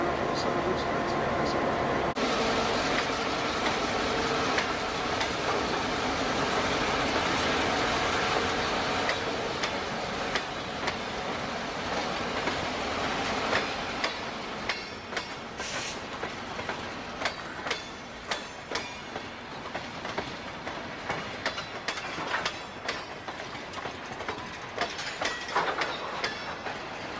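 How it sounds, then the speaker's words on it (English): A Grand Trunk Western GP-9 diesel locomotive passes on the mainline, a steady loud rumble giving way to rhythmic clickety-clack of wheels over rail joints, with occasional squeals and clanks as the cars roll by up close. "Train heading into Vassar."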